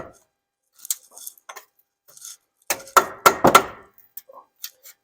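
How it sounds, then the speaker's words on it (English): A hammer strikes a putty knife to work a leaking front inner axle seal loose on a Ford Excursion: a few sharp metallic taps land in a quick cluster, with lighter clicks and clinks scattered before and after. "So I got my trusty putty knife again and hammering on."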